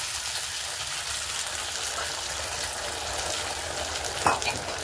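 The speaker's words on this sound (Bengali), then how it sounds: "এবার দিয়ে দিচ্ছি ধুয়ে রাখা সাবু।" Washed sago hits a pan of potatoes that are nearly fried, raising a steady, dense sizzle throughout with a short clatter near the end.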